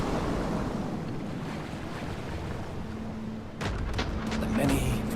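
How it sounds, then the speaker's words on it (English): Steady sea surf washing in a war game, a broad continuous rush of waves with wind, joined near the end by sharper distant thumps. "The many-voiced sea."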